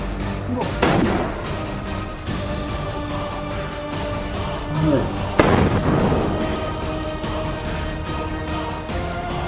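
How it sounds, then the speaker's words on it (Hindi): Gunfire from sniper fighting in Gaza, with two loud sharp reports standing out against a continuous noisy background of rumble and crackle, sounding like distant battle noise. "निशाना साधे हुए बैठा हमास का लड़ाका एक और गोली फायर कर देता है"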